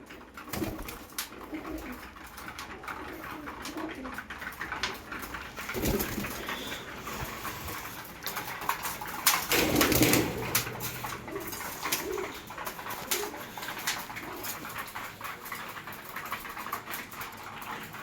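Pigeons coo softly and repeatedly close by, their low throaty calls running steadily against a faint background hum.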